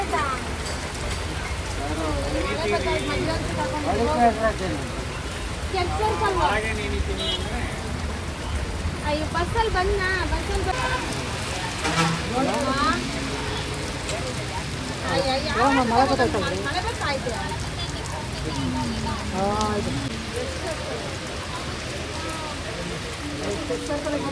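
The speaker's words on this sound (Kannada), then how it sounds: "ನಾವು ಮನೆಯಿಂದ ಹೊರಟಿರೋ ಒಂದು ಹತ್ತು ನಿಮಿಷಕ್ಕೆಲ್ಲ ಫುಲ್ ಮಳೆ" Heavy rain pours steadily throughout, a dense continuous wash that stays loud from start to finish, with voices talking over it at times.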